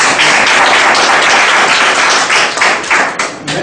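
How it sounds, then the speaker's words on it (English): An audience applauding at a mentoring education session, dense close clapping that stays loud and steady throughout, tapering slightly at the end. "You can give a round of applause."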